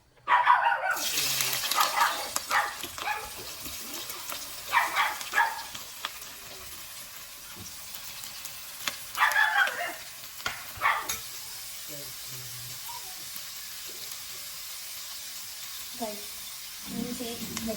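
Onions frying in a pan for biryani: a steady sizzle with intermittent spatula scrapes and clatter close by, easing to a softer hiss toward the end.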